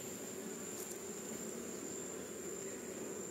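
Bees buzzing on a hive frame while a swarm is being divided make a faint, steady, dense hum that holds evenly throughout, with no voices.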